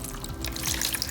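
Water poured into a big tray to soak a coconut coir brick: a brief, close, continuous splashing trickle with no voices.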